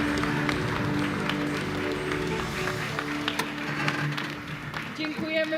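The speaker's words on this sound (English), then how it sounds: "dziękuję za te klaski" Conference audience in Wroclaw applauding continuously in a large hall under a steady background hum, with the claps thinning out near the end.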